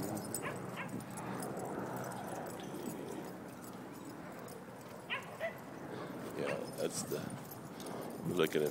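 A dog at a dog park yips, barks and whimpers in short scattered bursts, moderately close, over outdoor background noise with people talking.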